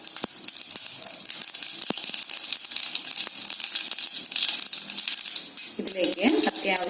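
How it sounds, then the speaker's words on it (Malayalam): Mustard seeds, about a quarter teaspoon, sizzling and popping in hot oil for a chicken curry, a steady bright crackle with scattered sharp pops, a voice briefly audible near the end. "ഇതിനകത്തേക്ക് കടുക് ചേർത്ത് കൊടുക്കാം. ഒരു 1/4 ടീസ്പൂണോളം കടുക് ചേർത്ത് കൊടുത്തിട്ടുണ്ട്."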